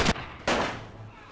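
Two sharp Lee-Enfield rifle shots in the First World War game The Great War, loud and close, the second echoing briefly before fading away.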